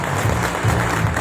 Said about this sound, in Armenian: նորից ծափահարենք